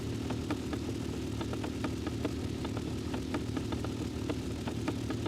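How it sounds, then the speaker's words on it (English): An engine idles steadily in the MX vs. ATV Legends video game, its low hum carrying a regular, evenly spaced knocking tick from a faulty engine, with no talk over it. "Sounds like the engine's knocking."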